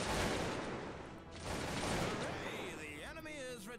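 Musket volley fire in the video game Cossacks 2, a dense crackling fusillade of many shots that lasts a few seconds and then fades, with a distorted game voice sounding at the end.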